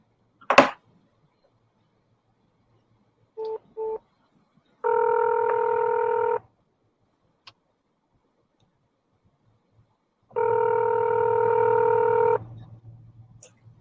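Telephone keypad tones on a 911 call: two short beeps, then two longer sustained dual-tone sounds separated by silence, clear and close, with a faint click between.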